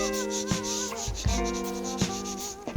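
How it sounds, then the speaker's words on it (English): A soap finish is scrubbed hard into a wooden board, producing squeaky, tonal rubbing with quick back-and-forth strokes and sharp scuffing bursts, close and loud, with no voices. "give it a good scrub"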